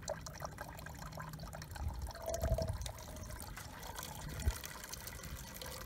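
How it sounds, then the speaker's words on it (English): Water drains and trickles out of a container holding leaf litter and bare soil, a faint, continuous liquid patter with small drips. "water coming out of this container is clear"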